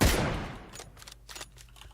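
A single loud gunshot from a shooter video game cracks at the start and decays, followed by faint scattered distant shots.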